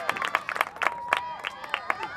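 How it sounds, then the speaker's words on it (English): A crowd at a girls lacrosse game at Memorial Field cheers and claps in a steady ovation, with bursts of hand claps over a murmur of voices. "As the crowd gives her a really nice ovation here at Memorial Field."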